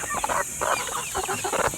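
Rhode Island Red heritage hens cluck and murmur in short repeated bursts inside a cage, close by, over a steady high-pitched hiss of background noise.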